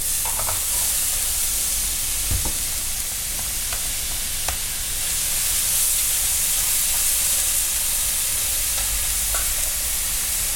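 Black truffle mushrooms fry in a pan for ramen, giving a steady close sizzle and hiss with a few light clinks and scrapes from stirring; no one speaks.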